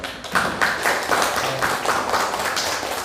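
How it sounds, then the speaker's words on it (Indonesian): A small group claps in a quick, steady rhythm in a classroom after a group presentation, close by, with no talking over it. "terima kasih kelompok 2 sudah mempresentasikan, tepuk tangan dulu"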